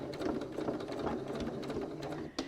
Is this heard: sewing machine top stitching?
yes